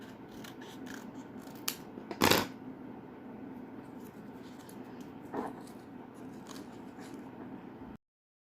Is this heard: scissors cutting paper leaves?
yes